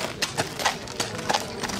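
Percheron draft horses walking at a town market horse presentation, hooves clip-clopping on hard ground in an uneven rhythm of distinct knocks, moderately near with crowd murmur behind.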